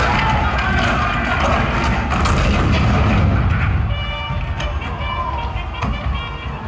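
Civil War cannon fire at Fort Sumter rolls as a loud, dense barrage of booms and thuds, rumbling continuously with a few sharper reports toward the end.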